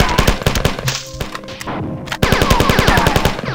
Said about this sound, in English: I'm going to stand here against this wall and empty assault rifle clips into anything that moves